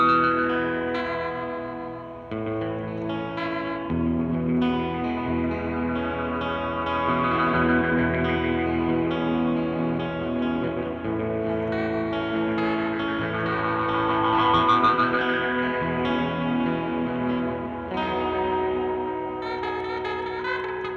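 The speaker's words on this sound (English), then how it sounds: "I'm going to hard pan alternating strings left and right like we did earlier." Electric guitar with a Submarine Pickups SubSix hexaphonic pickup played through a pedal, alternating strings hard panned left and right, giving a continuous shimmering, effects-laden chordal texture with echo, loud and sustained throughout.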